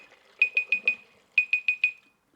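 Alarm on a Jobo CPE2 film processor beeping in quick bursts, four sharp tones, a pause, four more and a single final beep, all clear and close with no talking.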